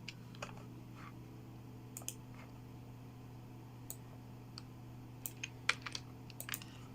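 Computer keyboard typing during a C# tic-tac-toe coding session: scattered, irregular key clicks, some in quick bursts, sitting over a steady low electrical hum with no talking.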